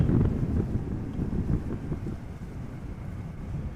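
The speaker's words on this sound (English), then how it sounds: "Wind blowing from the west-southwest." Gusty west-southwest wind at Amsterdam Schiphol Airport buffets the microphone, a steady low rumble that swells loudest at the start and eases slightly, with no voices.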